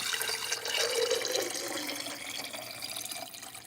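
Milk pours out of a jar in a continuous trickling, splashing stream lasting a few seconds, close and moderately loud, with no talking.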